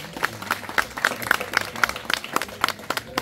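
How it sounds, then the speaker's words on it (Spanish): At a telesecundaria graduation ceremony in Las Lajas, Copala, an audience applauds a student with steady, evenly paced claps that ring out moderately near, with faint crowd murmur beneath. "Un fuerte aplauso para esta chica"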